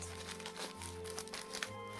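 Gift paper being unwrapped and crumpled, a second layer of wrapping inside the first, giving continuous close crinkling and rustling with a few sharper crunches over two seconds.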